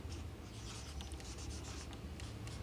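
A pen scratches across paper as a triangle name is written out during a geometry lesson, giving quiet, close, continuous scratching strokes with no voices.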